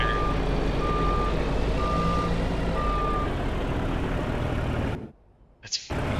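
In-game truck or tractor from Farming Simulator 2025 gives a steady reversing beeper, four evenly spaced beeps over a constant engine drone, before the sound cuts out abruptly near the end.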